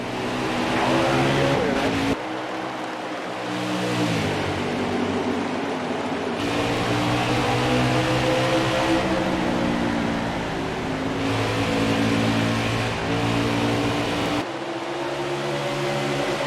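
NASCAR race truck engines roaring at the Bristol start of the UNOH 200 truck race in NASCAR Heat 4, a loud continuous drone of revving motors with rising and shifting pitch throughout, with a commentator's voice over it.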